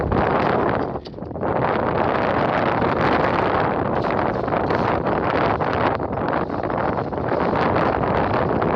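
Strong wind roars and buffets the microphone continuously on the peak of Mount Elbrus, with a rough, gusting rush that dips briefly near the start; no voices are heard.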